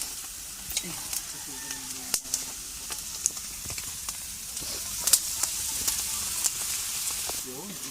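Dinuguan, a Filipino pork blood stew, sizzles steadily in a pan with crackling pops and stirring clinks, while people talk nearby.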